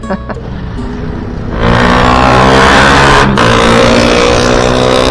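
A 125cc motorcycle with an enlarged exhaust revs up loudly and close, holding a strong steady roar after a quieter idling start.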